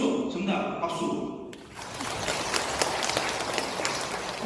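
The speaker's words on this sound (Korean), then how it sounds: "박수." Audience applause fills a lecture hall during a Lenten talk on Jesus in Jerusalem, starting abruptly after a short stretch of talk and continuing as steady, dense clapping.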